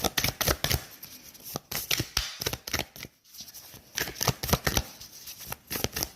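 Tarot or oracle cards being shuffled by hand, close up, in rapid bursts of riffling and flicking with a short pause midway before the shuffling resumes.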